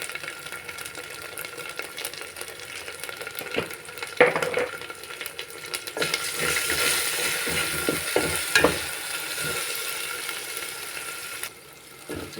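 Spices being stirred and fried in a pan for a potato curry, with a steady sizzle and scraping of a spoon against the pan, clearer clinks midway, no talking.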